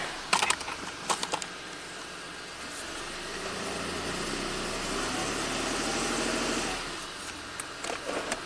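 A 1990 Buick Regal V6 with low power idles with a steady low rumble, then shifts tone as it is put in gear, with clicks and taps nearby at the start and end.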